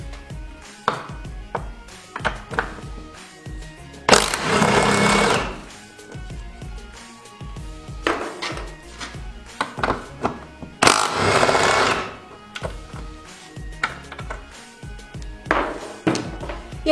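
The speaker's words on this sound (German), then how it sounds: "Als nächstes die beiden Muttern hier vom Mittellager mit einer 13er Nuss abschrauben" Nuts on the driveshaft center bearing of a BMW E36/E46 being undone with a 13 mm socket during gearbox removal, giving repeated ratcheting and clicking bursts with two longer, loud spells of rapid whirring, close and without talk.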